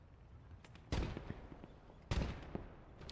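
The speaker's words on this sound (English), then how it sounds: "Oh, a little grenade going in there." A grenade explodes in the Gates of Hell Ostfront war game, two sharp loud blasts about a second apart with debris crackle trailing each, over a low background of distant battle rumble.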